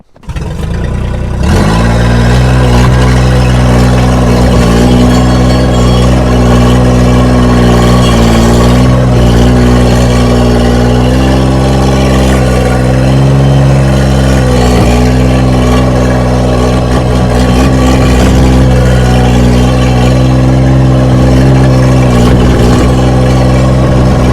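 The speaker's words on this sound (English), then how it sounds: "We'll see how far that the turbo loader can push this snow." Gianni Ferrari Turbo Loader engine running steadily and loud while pushing snow, a close, continuous mid-low drone with harmonic hum that barely varies, rising slightly under load with no talk over it.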